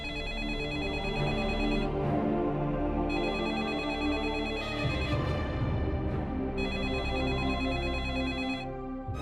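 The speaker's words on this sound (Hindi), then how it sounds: "मैं कब से फोन ट्राई कर रही हूँ, आप फोन क्यों नहीं उठा रहे हो?" A telephone ringtone plays in a Hindi family TV drama, ringing in repeated electronic bursts separated by short pauses, clear and fairly loud over a soft background.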